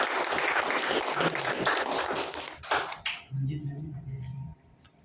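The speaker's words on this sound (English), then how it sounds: "please give a huge round of applause for Manjeet ji and Ajay Pankaj" An audience at a corporate felicitation ceremony for a window retailer applauds honorees in a loud, dense wash of clapping that cuts off after about three seconds, followed by someone speaking.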